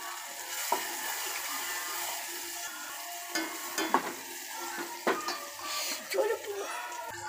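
Asafoetida goes into hot tempering oil with curry leaves and tomato for Marathi phodniche varan, giving a steady close sizzle with scattered stirring clatters and brief spatter bursts throughout.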